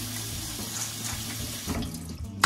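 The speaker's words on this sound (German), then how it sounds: "jetzt noch einmal kurz mit klarem Wasser ausspülen" Clear tap water runs steadily from a kitchen faucet over soaked dried beans in a sink, a continuous close rinsing splash with a short louder clatter near the end.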